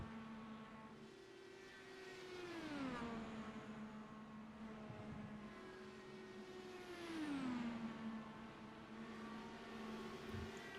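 Race car engine in an iRacing IndyCar AI championship finale, held at full throttle through a long steady drone, its pitch dipping twice with gear-like sweeps near the end of the laps.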